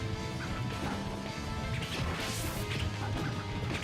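Crunchy smash hits and impact crashes from a Project M Super Smash Bros match, including a kick knocking a character off the stage, rising over continuous dense game audio.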